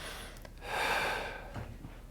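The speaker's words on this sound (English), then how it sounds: "So have him breathe out for me." During a Gonstead chiropractic adjustment a patient exhales in one long, breathy rush close to the microphone, framed by quieter breaths and faint rustling.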